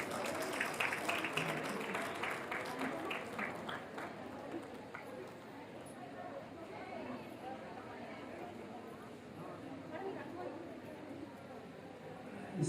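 Audience applause at a Women's Day event hosted by police at KJR Gardens, where women are being felicitated; clapping is dense and strongest in the first four seconds, then thins into a looser patter over crowd murmur.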